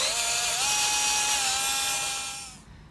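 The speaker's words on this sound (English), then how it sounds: "Nice and simple then, let's just drill this out." Power drill boring out damaged threads in a hole during a Helicoil thread repair, a steady high-pitched whine held close-up for over two seconds before winding down and stopping.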